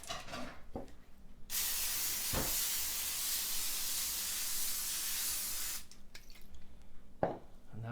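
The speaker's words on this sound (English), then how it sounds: "And that's got both racks sprayed." Canola oil sprays from a can onto baking racks in one long, steady, close hiss lasting several seconds, with short clicks and brief spritzes before and after.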